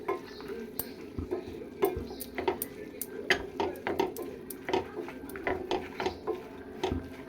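Drumstick leaves and moong dal being stirred in a pan over low heat, a spoon scraping and clinking against the metal in a steady, repeated rhythm with a faint sizzle underneath, close and clear with no talking.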